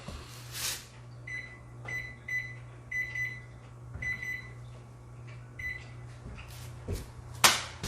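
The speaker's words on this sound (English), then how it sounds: "It's good to set a kitchen timer." A kitchen timer sounding while mead is being made, giving short repeated electronic beeps in small bursts over a steady low hum, with a couple of louder knocks at the start and end.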